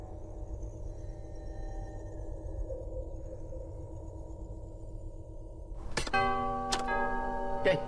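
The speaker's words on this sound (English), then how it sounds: "Well, yes, it does rather look like a doorbell." A doorbell in the LEGO Star Wars: The Skywalker Saga video game rings with bright chiming tones over a low, humming ambient game backdrop.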